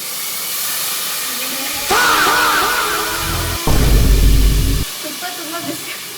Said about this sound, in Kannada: ತುಪ್ಪ ಫುಲ್ ಬಿಸಿ ಆಗಿಬಿಟ್ಟು ಫುಲ್ ಹಾರಕ್ಕೆ ಸ್ಟಾರ್ಟ್ ಆಗೋಯ್ತು ಅಕ್ಕಿ ಹಾಕಿದ ಕೂಡಲೇ